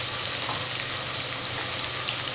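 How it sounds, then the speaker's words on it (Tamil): Onion, tomato and ginger-garlic paste sizzle steadily in a pan for a biryani masala, a dense continuous frying hiss with no talk. "இப்போ வந்து இது எல்லாமே சேர்த்துட்டு நல்லா வந்து வதக்கிக்கலாம்."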